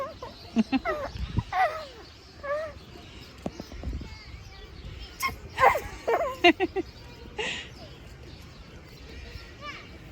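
A bird at Paignton Zoo sneezes again and again as it goes down to the grass, several short sharp bursts scattered irregularly over ten seconds, with people talking nearby in between.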